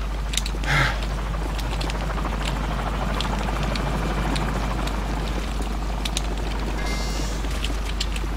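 Attack helicopter in a video game flying overhead, a continuous loud rotor and engine roar with a sharp burst early on and faint clicks scattered throughout, no voices.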